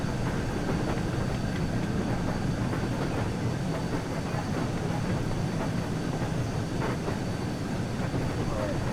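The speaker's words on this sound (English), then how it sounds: "Only to see Flying Scotsman go past without stopping." Flying Scotsman steam locomotive passing on the West Somerset Railway, a loud continuous rumble and clatter of wheels and coaches sustained close by for the whole stretch.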